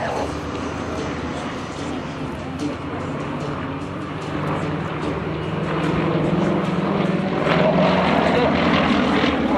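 A formation pair of aircraft at the Cotswold Airshow, a continuous broad roar of engines that builds slightly louder toward the end as they accelerate past, with crowd ambience underneath.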